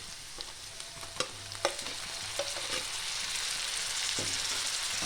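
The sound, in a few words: frying eggplant mash ingredients with tomato in a pan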